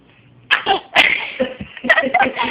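A person fakes a series of sneezes, a voice imitating the sound in several sharp, explosive bursts after a brief quiet start.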